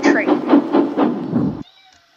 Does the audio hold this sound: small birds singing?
no